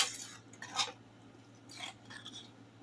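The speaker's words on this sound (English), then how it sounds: "Stir it in real good." A spoon stirring homemade chili made with ground chuck in a pot, giving a few short scraping clinks against the metal at an irregular pace over a steady low hum.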